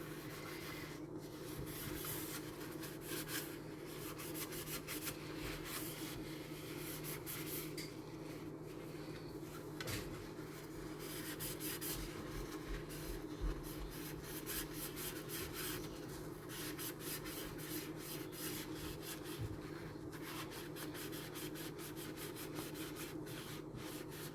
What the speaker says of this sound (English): So you can kind of see as you're scrubbing through and see how it's come up a lot better.